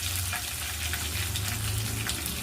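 Green chillies and curry leaves fry in hot oil for Ugadi tomato chitranna, a dense, continuous close sizzle with crackling spits throughout and a low stirring rumble underneath.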